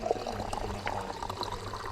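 Water pours steadily into a bottle during a refill stop on a long bicycle trail ride in Tuscany, a soft, quiet gurgling stream lasting a couple of seconds.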